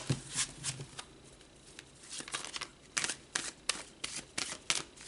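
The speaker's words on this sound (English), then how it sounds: "let's pull some tarot" Tarot cards are shuffled by hand in quick bursts of riffling and slapping, with short pauses between clusters of crisp paper snaps.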